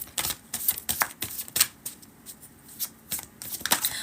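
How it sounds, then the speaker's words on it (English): Tarot cards being shuffled by hand, repeated crisp riffling bursts and soft slaps of the deck in quick irregular succession, close and clear with no talking. "Let me get some tarot cards."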